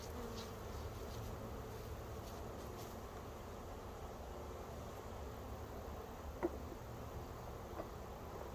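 Honey bees hum in a soft, continuous drone around a frame pulled from a swarm trap, faint and steady throughout, with one small tap partway through.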